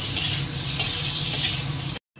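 Potatoes fry in hot oil in a wok, giving a loud, dense, continuous sizzle close up that cuts off abruptly at the end.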